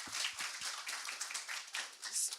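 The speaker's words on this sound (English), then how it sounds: "can we get a clap for Department of Transport?" Scattered audience clapping for the Department of Transport at a talk on green hydrogen innovation and startups, a thin round of claps with some voices murmuring underneath.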